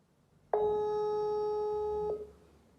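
A single steady telephone tone sounds alone for about a second and a half while a call waits to go to voicemail, clean and close, then cuts off.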